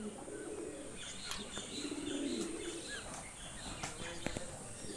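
Pigeons cooing softly at a distance, low rounded calls over a faint background hum, with a few brief chirps mixed in.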